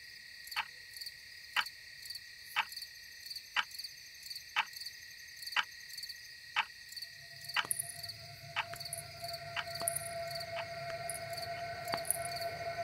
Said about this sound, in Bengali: কানে আসছে একঘেয়ে ঝিঝির ডাক।